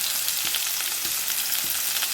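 Vegetables fry steadily in a pan with a continuous bright sizzle, punctuated by a few soft stirring knocks spaced about half a second apart, close and moderately loud with no voices.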